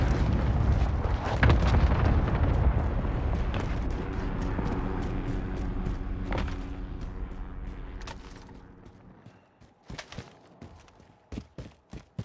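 In Call of Duty Modern Warfare multiplayer, a cluster strike brings a long rolling wall of heavy explosions that rumbles for several seconds, then thins out into scattered sharp blasts and cracks.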